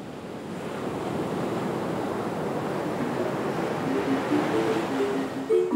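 Indian Ocean waves breaking on the beach at Nyambani, Mozambique, a continuous roar of surf with wind buffeting the microphone, steady and full throughout with no voices.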